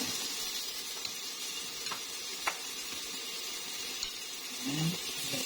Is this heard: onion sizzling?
yes